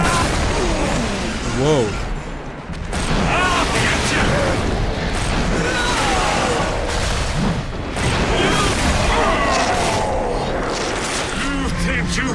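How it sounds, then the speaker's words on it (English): Grenade launcher explosions in the BioShock Remastered video game, loud, dense booms and bursts repeating almost continuously with game noise, under a man's occasional exclamations. "let's try a grenade launcher"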